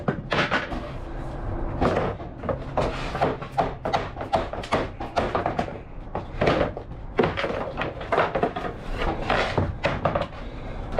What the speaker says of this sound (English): Drawer disassembled.